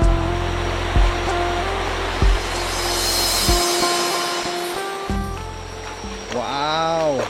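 River water rushing and splashing steadily around a bather in a hill stream near the Dayak village of Long Beluah, North Kalimantan, with a voice exclaiming near the end.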